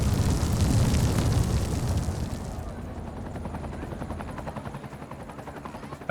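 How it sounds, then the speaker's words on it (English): A helicopter in the video game Cities: Skylines 2 flies over a city amid fireworks; a loud blasting roar fades into a clear, rhythmic rotor chop that carries on at a steady level. "Oh, I can hear the helicopter."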